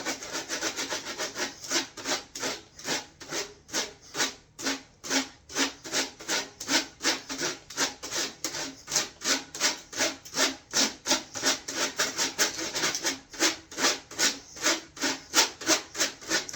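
Rapid, rhythmic scratchy strokes of a crayon rubbed back and forth over paper, steady and close, sounding much like sawing wood.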